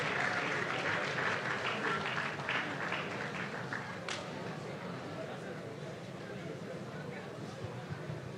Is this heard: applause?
yes